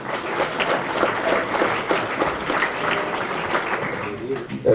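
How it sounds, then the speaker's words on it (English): Applause from a banquet audience at a memorial scholarship banquet, a steady wash of many hands clapping for about five seconds, fairly close and even, with a sharp knock near the end. "Give Zachary a round of applause."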